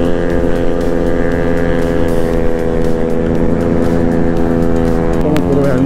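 A motorcycle accelerates hard at full throttle on an open highway while chasing a 400cc bike. The engine holds a loud, steady droning roar with wind rush throughout.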